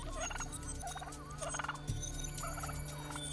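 Brush turkey calls in the wild, a series of gobbling, warbling bursts repeated at intervals over a steady droning background of insects or ambience, fairly close and clear.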